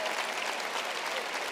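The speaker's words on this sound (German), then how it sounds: "Vielen Dank für diesen Applaus." A packed comedy-night crowd at a Cologne show bursts into dense, sustained applause, loud and continuous throughout with a faint murmur of the audience underneath.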